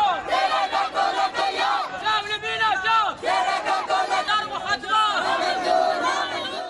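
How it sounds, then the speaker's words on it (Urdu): Blind students and teachers chant protest slogans together at a demonstration against closing their old institute for the blind, a loud, dense crowd of voices calling in unison and continuing without a break. "نابینا طلبہ اور استاذہ نے نعرے بازی کی"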